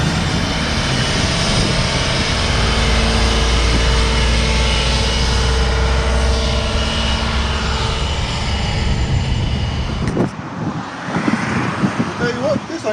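A new crop sprayer drives around the edge of a field with a loud, steady engine drone and rumble heard from close by, shifting near the end, with a voice talking over it.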